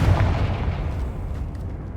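Deep, rumbling blast from the Confringo fire spell in Hogwarts Legacy, a single loud boom that lingers and slowly fades, with no voices over it.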